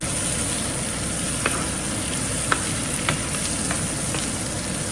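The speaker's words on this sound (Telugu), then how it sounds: "ఆనియన్స్ అయితే ఫ్రై అవుతున్నాయి." Onions and green chillies frying in a pan for paneer masala curry produce a constant close sizzle and hiss, with a few faint clicks of a spatula on the pan.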